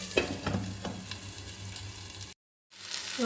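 Green peas stirred and fried in a pan for cauliflower singara, a steady close sizzle with scraping utensil strokes, cut by a brief silent gap before frying resumes.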